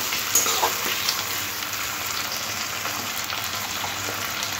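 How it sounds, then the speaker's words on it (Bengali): Tomato and onion frying together in a pan for a mustard katla fish curry, a steady close sizzle with light stirring, no voices. "টমেটো পেঁয়াজটা আরও একবার খুব ভালো করে ভেজে নিতে হবে।"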